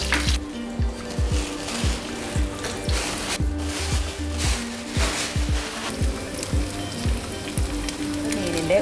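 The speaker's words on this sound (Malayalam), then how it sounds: "നമുക്ക് നമ്മുടെ മീനിനെ 2 പുറവും നന്നായിട്ട് ഫ്രൈ ചെയ്തെടുക്കാം" King fish frying in a pan, a close, continuous sizzle and crackle with repeated soft knocks and clatters of handling over it, no one talking.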